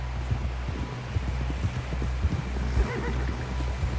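Horse hooves clip-clop at a steady pace in Red Dead Redemption 2, close and fairly quiet over a low rumbling background, with a faint voice in the mix.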